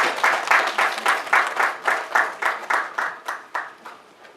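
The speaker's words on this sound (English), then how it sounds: "Round of applause." An audience claps at the launch of the Friends of Mental Health NGO, with close, loud hand claps falling into a steady, rhythmic beat of roughly three claps a second that fades slightly toward the end.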